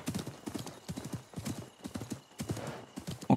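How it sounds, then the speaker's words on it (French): Horse galloping in Assassin's Creed Mirage, a steady rhythmic clip-clop of hooves in repeated quick bursts across the whole stretch, fairly close and clear, with no talking over it. "même le galop du cheval là, je trouve ça très stylé"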